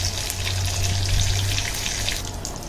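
Mutton samosas deep-frying in oil on medium heat, giving a dense, even, continuous bubbling sizzle at close range and moderate loudness with no one talking.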